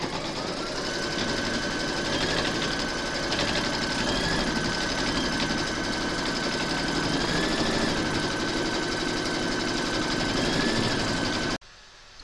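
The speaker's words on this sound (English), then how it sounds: "Pop your hoop into your machine and stitch round number 2 to secure it" An embroidery machine stitches the placement outline of a large haunted-house applique in a hoop, a fast, steady mechanical whirr with rhythmic needle chatter running loud and continuous, then stopping abruptly near the end.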